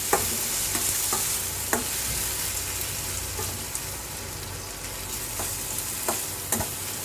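Ginger, garlic and cashews fry in a pan with a steady close sizzle, broken by several sharp clinks and scrapes of a stirring spoon against the pan; no one speaks.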